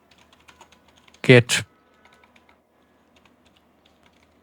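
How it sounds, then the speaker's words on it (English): Soft keystrokes on a computer keyboard tap in scattered, irregular clicks before and after a short spoken word, fairly quiet and close. "I cannot see the keyboard properly while I'm typing because of this new mic setup here"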